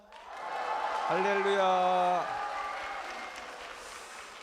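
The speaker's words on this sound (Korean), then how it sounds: "여러분들이 크게 한번 좀 우리 예배당에 떠나가도록 환호성을 한번 질러보시면 어떨까요?" A church congregation at a children's Sunday worship service cheers and applauds together, a broad roar of voices and clapping lasting a few seconds, with a shouted exclamation standing out over the crowd.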